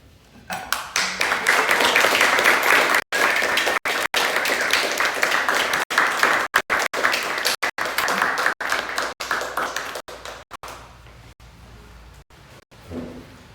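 A music performance audience applauds with sustained, full clapping that swells quickly, holds loud for several seconds, then thins and tapers off as a few hands linger.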